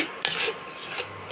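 Kerala fish curry mixture stirred in a pan, with a spoon scraping and rubbing in repeated raspy strokes, close and moderately loud.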